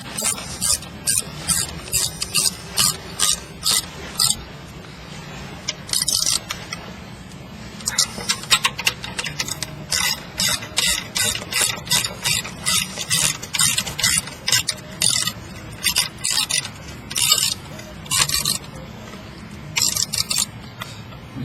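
A wrench tightens the mounting hardware on a motor: a run of quick metallic ticks and clicks in short bursts, close up and fairly quiet, with brief pauses between strokes.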